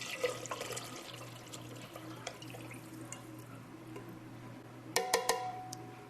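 Homemade chicken bone broth poured from a can into a crock pot, a soft liquid trickle and drips, quiet and close, ending in a few sharp clinks.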